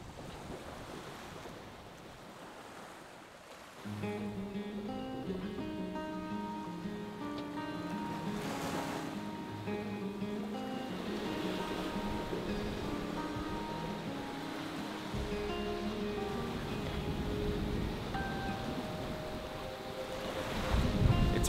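Sailboat running wing on wing before following ocean swell, with steady rushing water and wind noise along the hull, rising and louder toward the end, no voices.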